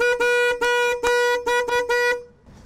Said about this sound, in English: What are you honking at?